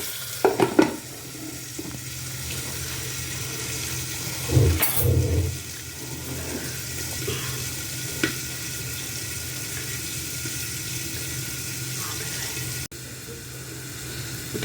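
Aloo kurma ingredients fry in a pan with a constant low sizzle, interrupted by clattering utensil knocks and a burst of louder handling noise partway through.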